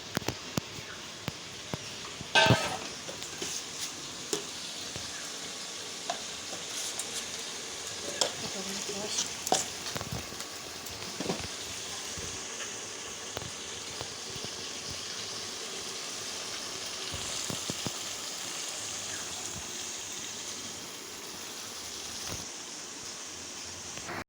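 Loitta (Bombay duck) fish masala fries in a pan, a continuous soft sizzle broken by scattered clinks and scraping stirs, with occasional faint voices in the background.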